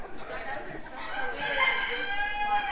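Chickens at a county fair chicken show in Fayette County crow and cluck close by, with steady crowd murmur and voices in the background.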